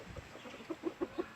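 Short rhythmic series of five clucking calls from a rooster on a backyard poultry farm, each call clear and close, evenly spaced and growing slightly louder, with no talking.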